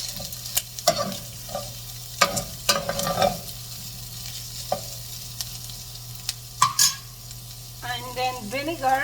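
Igado ingredients being stirred and fried in a pan, with repeated scraping stirs and a steady sizzle throughout, plus a few sharper clinks near the end; no talking.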